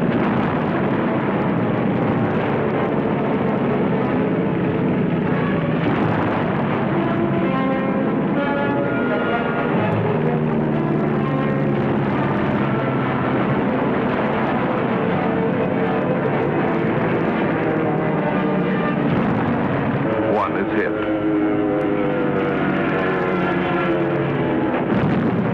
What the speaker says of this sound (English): Our planes bomb and strafe.